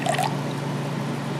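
Water is poured steadily into a container while foot butter is being made, giving a continuous soft trickling and filling sound. A brief brighter splash comes at the start.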